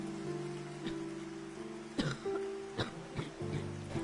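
Several short, harsh coughs burst out at irregular intervals over a low background hum, with no speech between them.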